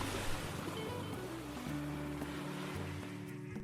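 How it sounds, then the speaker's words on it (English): Ocean waves used as a sound effect: a soft, continuous surf wash with a low rumble, faint and steady, with no voices. "It sounds like the ocean, Luna said."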